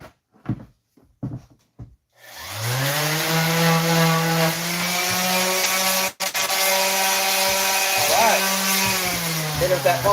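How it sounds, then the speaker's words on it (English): A power sander works over wooden boards, its steady motor whine starting after a few short knocks and running loud and close, with a brief dip midway. "Take the sander."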